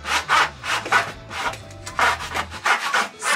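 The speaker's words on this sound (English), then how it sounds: "this idea of just sawing through this bit" Hand sawing through the wall of a narrowboat under renovation, loud and close, in rhythmic rasping back-and-forth strokes with a brief pause midway.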